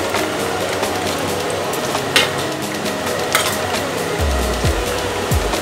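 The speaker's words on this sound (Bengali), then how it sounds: "দিয়ে দেব পেঁয়াজ, গাজর আর ডিম কড়াই।" Onion, carrot and egg fry in a kadai with a steady sizzle, broken by clinks and scrapes of a utensil stirring the pan, close and fairly loud, with no talk.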